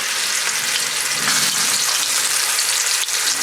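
Prawns frying in butter in a pan make a loud, dense, steady sizzle that stays up close and continuous, with a faint clack near the end and no voices.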